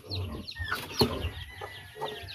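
Chicks peeping in a farmyard, overlapping chirps and cheeps with some clucking fowl mixed in, fairly busy and close, with no clear talk.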